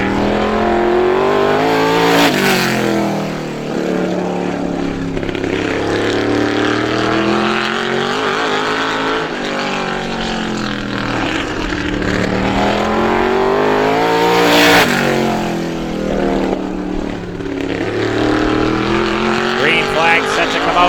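Supermodified race car in car number 51 at Star Speedway on a solo qualifying time trial lap, engine roaring loud and steady with rising and falling pitch as it circles the oval, swelling as it passes close around 2 and 15 seconds.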